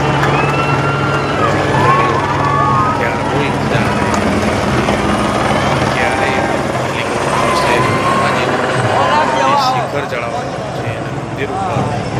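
A large helicopter's steady rotor drone fills the scene as it showers flowers over a temple, loud and continuous, with people talking and calling out faintly underneath.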